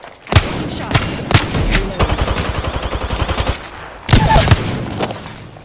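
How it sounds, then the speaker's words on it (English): Gunfire in the Apex Legends shooter: loud, close single shots, then a rapid automatic burst, with another heavy burst near the end. "Opening fire"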